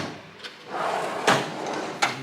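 A metal Snap-on toolbox drawer slides open with a rolling rumble and a couple of sharp clacks as it stops.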